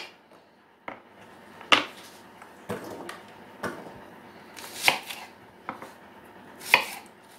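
Knife chopping carrots and vegetables into large pieces for a potato and minced meat gratin: sharp, irregular cutting-board thuds spaced about a second apart, close and fairly loud over quiet kitchen background, with no speech.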